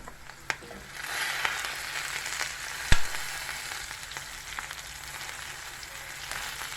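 Carrots and potatoes fry in a pan of oil, with a steady hiss of sizzling throughout. A few sharp clatters mark peppers being poured onto them, loudest near three seconds in.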